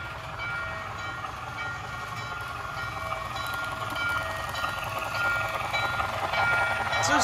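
An MTH Southern Pacific Daylight model train runs steadily with a continuous mechanical rumble and rhythmic clatter, growing slightly louder toward the end.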